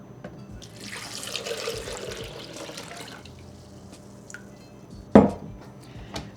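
Water runs and splashes steadily into a blender for a few seconds, about 4 cups, followed by a sharp clunk and a few small knocks.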